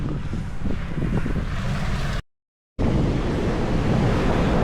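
Ocean surf at Dahican Beach in Mati, Davao Oriental, a loud continuous wash of waves mixed with gusty wind buffeting the microphone, briefly cut off midway before resuming.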